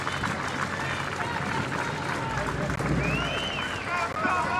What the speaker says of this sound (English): Courage fans applauding Denise O'Sullivan